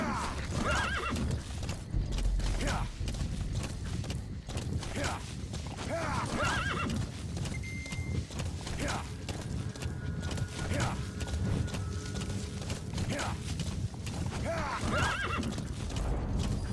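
D-Horse in Metal Gear Solid 5 gallops steadily with rhythmic clip-clop hoofbeats, and neighs and snorts a few times over a dense game soundscape.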